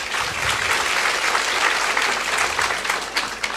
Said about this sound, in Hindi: सवाल के लिए तालियां बजाइए